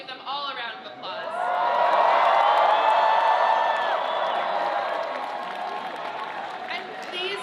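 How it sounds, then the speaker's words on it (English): Crowd at a campaign victory speech applauding and cheering, a broad wash of clapping and whoops that swells after a second, holds loud, then eases slightly while continuing to the end. "so please give them all a round of applause"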